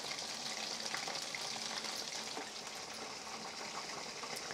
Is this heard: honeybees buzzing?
no